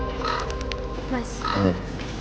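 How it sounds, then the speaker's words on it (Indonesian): A crow caws a few times, harsh and fairly close, over a background of steady low noise. "itu suara burung gagak ya?"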